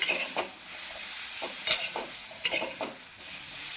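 Paneer masala for a cashew paneer dish stirred in a pan, with a spatula scraping in a few distinct strokes over a soft sizzle of frying; close and fairly quiet, no talking.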